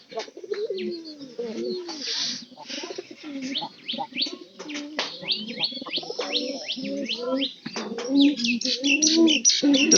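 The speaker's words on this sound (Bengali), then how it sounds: "আমার এই দুই কবুতরের মধ্যে মনে করেন যে প্রায় সবসময় ঝগড়া লেগে থাকে।" Two domestic pigeons squabble close by with dense, overlapping coos, grunting calls and quick chirps. The sound is busy and agitated throughout and grows slightly louder toward the end.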